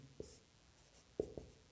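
Chalk or pen tapping and scratching on a classroom board, a few brief isolated strokes with quiet gaps between them, close and faint.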